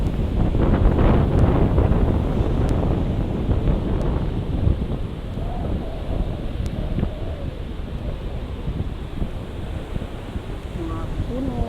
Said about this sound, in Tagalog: Sarap pakinggan yung alon.